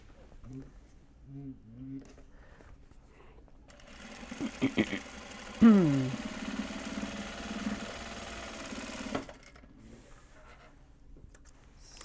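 A sewing machine stitches a seam on a large box bag, running in one steady motor buzz for about five seconds in the middle, with a person talking before and after the run.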